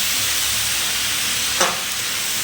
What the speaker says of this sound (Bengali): এবারে গ্যাসের ফ্লেমটা মিডিয়ামে রেখে এই চাল আর ডাল খুব ভালো করে ভেজে নিতে হবে।